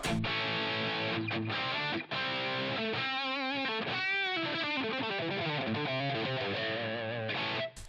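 Overdriven, distorted electric guitar played through a Line 6 Helix with an LA Studio (Teletronix LA2A-style) compressor, sustained chords and bending sustained notes ringing loud and close, with brief gaps between phrases and no talk.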